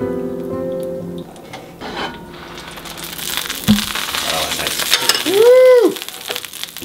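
Onions and carrots hit a hot pan on medium-high heat and start sizzling, with stirring and scraping noises and a brief tonal squeal near the end.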